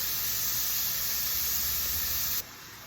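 Meat frying in oil in a pan, the same oil used earlier for eggplant, for a Sicilian bolognese; a steady, loud broadband sizzle runs throughout with no talk, dropping suddenly in level near the end.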